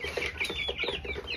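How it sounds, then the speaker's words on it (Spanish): Young criollo chicks give soft repeated clucks and peeps at close range, a steady chatter with no voices. "Son pollitos criollos, son bien bonitos."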